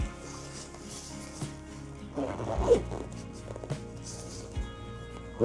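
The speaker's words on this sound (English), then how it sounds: "Zip up nice and neat." A zipper runs shut on a small camping first aid kit pouch, a few scratchy pulls close up with light handling noises and no talking.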